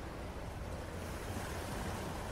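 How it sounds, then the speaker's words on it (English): Ocean waves and surf roll in a continuous broadband wash with wind noise, a steady, close roar with no distinct breaks and no voices. "leaving only the pounding and the shushing of waves to fill the auditorium"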